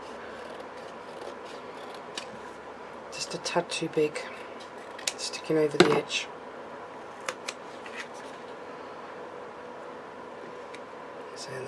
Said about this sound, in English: So I'm going to try and trim that down slightly with my scissors.